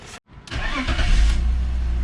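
An E46 BMW wagon's engine starts after a brief pause and settles into a steady, close, rumbling run.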